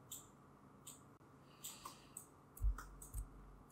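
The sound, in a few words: computer mouse clicking in Blender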